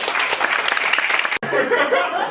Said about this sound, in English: A round of applause for Ruta, guys.